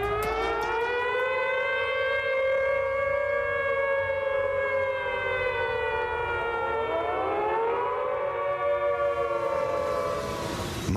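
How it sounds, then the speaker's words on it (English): Civil defense tornado sirens wail across Dallas County as a storm approaches, a loud sustained rising-and-falling tone with layered harmonics and a second overlapping siren sweep near the end, alone without talk. "we're going to sound the sirens in Dallas County"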